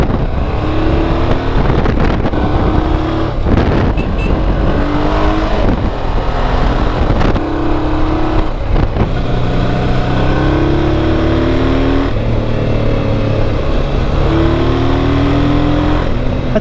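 A 1995 Honda Africa Twin adventure motorcycle ridden on a road, engine loud and close under heavy wind rush, revs rising and falling through repeated gear changes, no talk.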